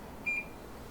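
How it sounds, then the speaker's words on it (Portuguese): A single short electronic beep from an air conditioner sounds, clear but fairly quiet against a soft background hum. "que é o barulhinho do bip."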